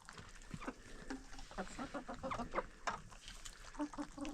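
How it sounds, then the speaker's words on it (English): A small backyard flock of eleven chickens, barred rocks among them, with a rooster in the middle, clucks and squawks in quick overlapping calls close by on a snowy farm day. "So, yep, so 11 birds. We got the rooster in the middle here."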